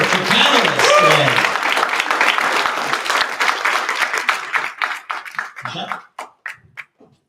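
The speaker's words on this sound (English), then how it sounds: "So please give a round of applause again for our wonderful experts and panelists today." A crowd at an entrepreneur summit claps loudly in sustained applause for panelists that gradually thins out into scattered individual claps before fading away, with voices mixed in.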